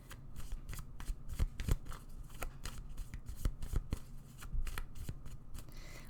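Playing cards for a tarot reading are shuffled close by in quick riffles and dry flicks, an uneven, continuous patter of sharp clicks lasting several seconds with no speech over it.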